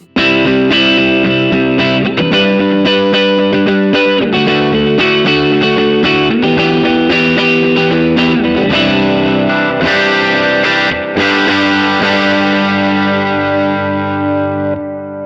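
Electric guitar plays through delay and reverb pedals with a Savage drive pedal added, giving a loud, gritty, continuous stream of strummed chords that washes into echoing sustain and fades at the end.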